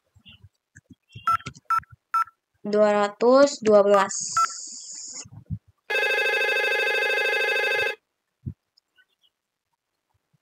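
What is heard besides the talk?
IP phone dialing a number and ringing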